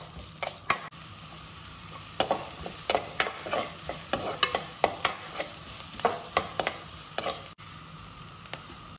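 Onion frying with cumin, mustard seeds and curry leaves for a sorrel-leaf soya granule curry, a soft continuous sizzle broken by a rhythmic series of sharp spatula taps and scrapes against the pan.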